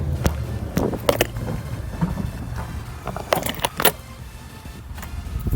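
Car keys jangle in a hand while a 2017 Ford Police Interceptor Utility is opened, giving scattered close metallic clinks and rattles over low outdoor rumble and light wind.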